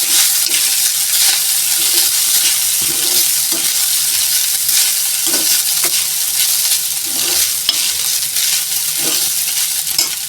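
Rice for vegetable pulao tempered and stirred in a pan, a continuous sizzle with repeated scraping strokes of a spoon, close and steady with no talking.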